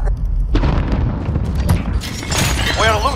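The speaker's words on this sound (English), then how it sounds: "Enemy cruise missile." A cruise missile explosion in the Call of Duty: Modern Warfare video game booms loud and close, with a deep rumbling roar that sustains across the whole stretch and swells again near the end, where a brief voice cuts in.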